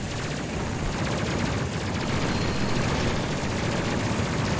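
Sustained rapid gunfire from a mounted gun aboard a spaceship in the Space Crew game, a dense, continuous rattle at steady loudness across the whole stretch with no voices.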